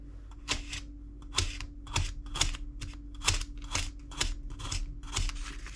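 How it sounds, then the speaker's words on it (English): A Gyuto kitchen knife chops through a carrot on a board, giving a steady series of about a dozen crisp, close chopping thuds in an even rhythm over a low background hum. "I figured we could do maybe just a bit of a carrot cut here."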